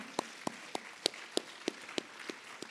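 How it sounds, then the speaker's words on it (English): Sparse, evenly spaced claps, roughly three per second, ring out faintly in a hall at a Delta Sigma Theta sorority Miss Jabberwock event, sounding like a single person or a few people clapping slowly rather than a full crowd. "Please give them a round of applause."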